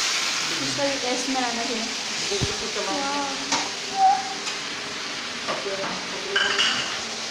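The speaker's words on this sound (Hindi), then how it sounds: "इसको सबको डाल देना है और इसको अच्छा से लगातार चलाना है, नहीं तो दही फट जाएगा" Marinated biryani chicken in yogurt being stirred continuously in a pot at home, with a soft steady sizzle and scraping under a voice talking throughout.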